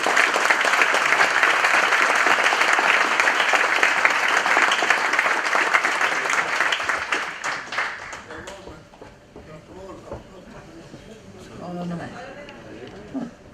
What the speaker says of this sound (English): A warm applause for Captain Sarkos.